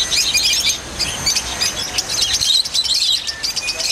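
A loud, busy mix of small caged birds such as parakeets chirps and tweets continuously at a street-side pet stand that also sells rabbits, with many overlapping high calls close by.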